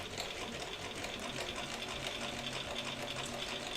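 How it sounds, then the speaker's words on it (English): A sewing machine stitches a bag lining in one steady, continuous run, its fast mechanical whir close and even throughout. "So now you guys can actually watch Debbie sew."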